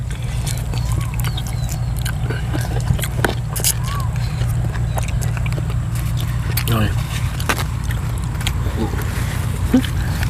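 Someone chews a spicy pounded stink bean salad outdoors in a cool breeze, with faint, irregular crunchy bites over a steady low background hum.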